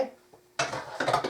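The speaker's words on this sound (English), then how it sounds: "I'm just going to mix this together real good. Just mix it." Chicken and stuffing casserole ingredients are stirred together in a container, giving a short run of close scraping and clattering of utensil against the dish.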